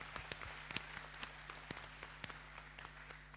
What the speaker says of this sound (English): I would like to really clap and give a round of applause for these speakers.